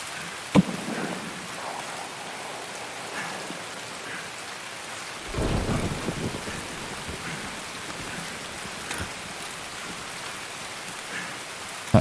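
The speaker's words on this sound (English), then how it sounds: "That rain is so vicious." Steady rain pours throughout a Raid Season 6 video game match, a dense hiss of drops hitting surfaces with a couple of sharp cracks and a louder surge of downpour midway, no voices.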